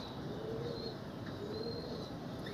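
Pigeons coo softly and repeatedly at a pigeon seller's place while birds are packed for delivery, the low murmuring steady through a constant background hum with a few faint chirps.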